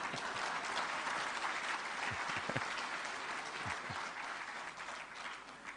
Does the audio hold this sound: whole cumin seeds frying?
no